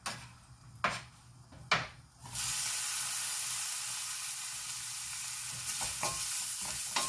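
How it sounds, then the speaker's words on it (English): Onions and spices for an eggplant, green tomato and celery dish are stirred in a pan with a few sharp scrapes, then a loud, steady sizzle carries on with occasional clinks of the spoon. "You just want to caramelize it a little bit."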